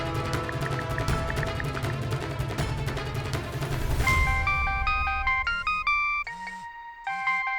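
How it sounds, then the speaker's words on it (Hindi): A phone ringtone for an incoming call plays as a bright, repeating melodic chime, loud in the latter half of the clip after a stretch of dense background music. "गुड्डू का फोन।"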